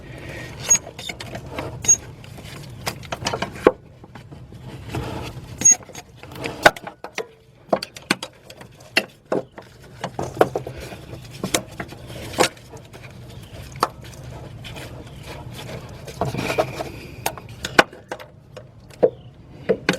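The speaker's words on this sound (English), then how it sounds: "let's see if I can get my wrench up in here" A wrench clicks and scrapes against metal while working on the power steering pump of an Infiniti I30/I35 or Nissan Maxima, in repeated sharp ticks and rattles at close range.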